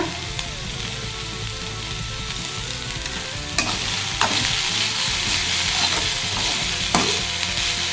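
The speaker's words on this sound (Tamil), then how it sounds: "உப்பு சேர்த்து நல்லா வதக்கி விடுங்க" Food sautéed with salt in a home kitchen pan, a close steady sizzle with occasional sharp scrapes and clanks of the stirring spoon against the pan, no talk.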